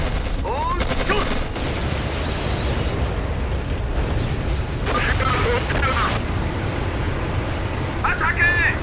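Heavy tank cannon fire and explosions boom continuously in a loud World War II video game battle, with shouted German and Russian voices breaking through the rumble now and then.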